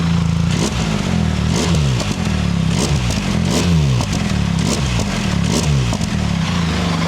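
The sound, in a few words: BMW R1300GS motorcycle with QD exhaust, engine overrun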